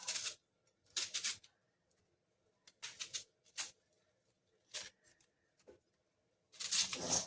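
An onion is chopped on a board in a kitchen, heard as separate bursts of sharp knife cuts with silent gaps between them, close and fairly clear.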